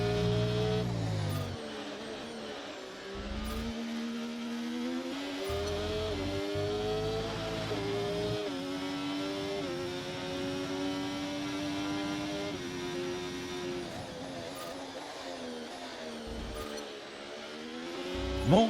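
Formula 1 car engine in a racing video game, a continuous high-revving whine that rises and falls through gear changes and corners, loud and steady throughout.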